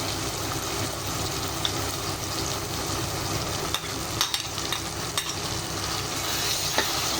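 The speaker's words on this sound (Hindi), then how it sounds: "भूनने का सिलसिला अभी भी जारी रखेंगे।" Onions and freshly added chopped tomatoes fry in a pan for a chicken curry, giving a continuous sizzle under scraping stirs and a few sharp clicks of the spoon against the pan.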